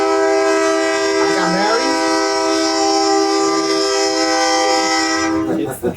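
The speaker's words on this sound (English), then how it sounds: "every time the train hits their horn" A passing train sounds a loud, sustained multi-tone horn blast lasting several seconds, close and dominant, with faint voices underneath before it cuts off.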